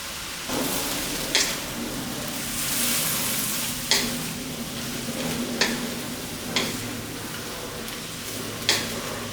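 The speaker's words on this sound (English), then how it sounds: "just keep on stir frying the vegetables until it comes down a bit" Vegetables for soy sauce chow mein sizzle steadily in a hot wok, with a spatula clacking against the wok every second or two as they are stir-fried.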